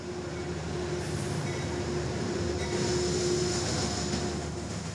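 Trains rumble in Grand Central station, New York, a steady low mechanical roar and hum with a sustained tone, fairly faint and heard on its own with no talk.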